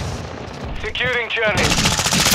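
Rapid automatic weapon fire in Call of Duty Modern Warfare 2 Domination on the Shipment map, loud sustained bursts of gunshots with a few rising game effect tones in between.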